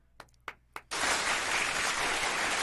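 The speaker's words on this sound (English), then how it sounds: "give her one more applause" A few isolated claps, then a sudden burst of full audience applause that stays loud and steady, greeting a young woman guest on a community talk show.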